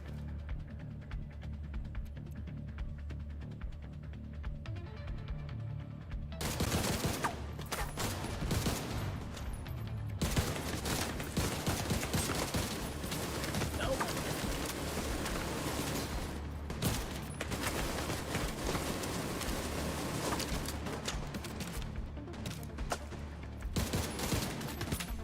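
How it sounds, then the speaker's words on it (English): Sustained automatic gunfire from a gun in The Division 2, rapid continuous shots after a quieter opening, with heavy mechanical clatter and no talk over it. "Gosh, this gun kicks so much, though."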